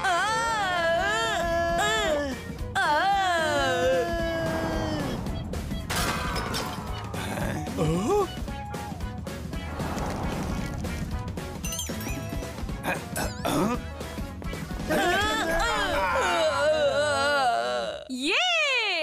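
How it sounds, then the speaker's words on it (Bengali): In a cartoon, a clay pot hung for a dahi handi contest is smashed, with short crashing bursts amid cartoon voices that cry, shout and squeal. "ইয়ে, হাঁড়ি ভেঙে গেছে।"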